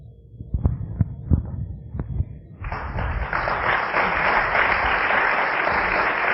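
An audience at a talk on Tu B'Av and soulmate relationships bursts into applause after a few soft thuds; the dense, sustained clapping swells in suddenly and carries on evenly to the end.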